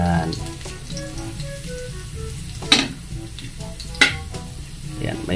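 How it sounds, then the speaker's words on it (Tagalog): Garlic browning in a small amount of oil, a moderate sizzling hiss with a couple of sharp stirring knocks and faint tonal background sounds. "Yan, may brownish na konti yung ating bawang."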